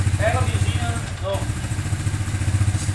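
A Suzuki LTZ250 quad engine idles with a steady, low, pulsing putter, close and continuous, while someone talks over it.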